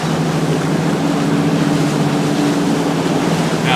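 A speeding motorboat roars loud and close on busy water, its engine drone steady and unbroken with no voices over it.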